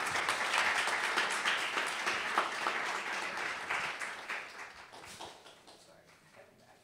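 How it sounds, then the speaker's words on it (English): Audience applause at an awards ceremony honoring a women's peace leader, a dense wash of many hands clapping that holds strong for several seconds and then gradually thins and fades out. "For a big round of applause."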